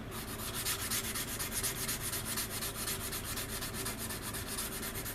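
A plastic part of a C-124 Globemaster scale model kit is sanded on a sanding board, a close, steady rasping scrub in quick back-and-forth strokes with no voices over it.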